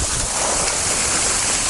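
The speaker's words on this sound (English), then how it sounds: "waterfall's ripping pretty good" Waterfall rushing hard after a rainy week at Windrock Park, a steady broadband roar of falling water, loud and continuous with no talk.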